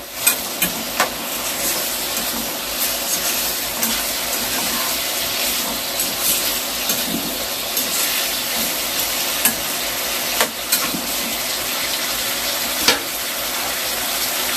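Meat for pineapple adobo sizzles steadily in a pan as a spoon stirs it, with scattered scraping clicks over a constant crackling bed of frying, close and fairly loud, no voices.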